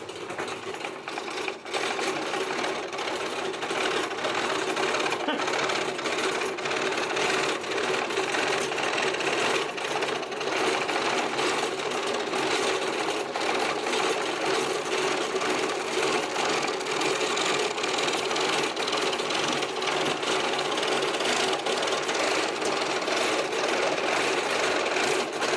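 A pedal-powered fret (scroll) saw runs continuously, its blade chattering in a fast, even up-and-down rhythm, close and fairly loud throughout with no talk.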